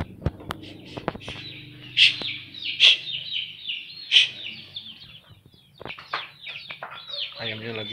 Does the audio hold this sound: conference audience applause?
no